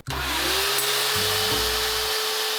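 A Bissell Little Green Pro Heat steam cleaner runs loudly and close, a steady roaring motor drone with a high whine, its pitch shifting slightly a few times, with no talking over it.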